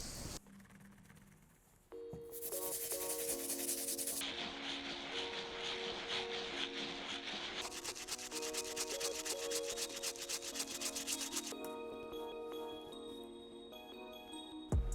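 A stiff bristle brush scrubs the soles of an Air Jordan Fear 4 sneaker during a cleaning. The scratchy rubbing is steady and fairly quiet, continuing for most of the stretch with no talking.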